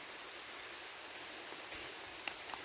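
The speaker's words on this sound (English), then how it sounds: "Right, rain's coming down." Steady rain falls at a wild camp in the Scottish outdoors, a soft continuous hiss with a few sharper drops and taps near the end, faint and without voices.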